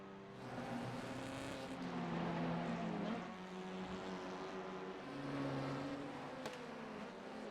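A TCR race car engine idles in the pit lane in the iRacing sim at Snetterton, a low steady drone with slight rises and falls in pitch, fairly distant and without speech.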